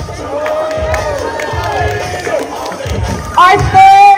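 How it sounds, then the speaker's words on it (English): A crowd at a high school graduation pepper-eating contest cheers and shouts, with excited voices and whoops rising into a louder burst near the end. "Listen to that hot crowd."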